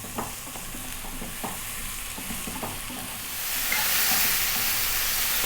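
Mushrooms frying in a pan give a steady close sizzle with occasional stirring scrapes, the hiss swelling louder and brighter partway through.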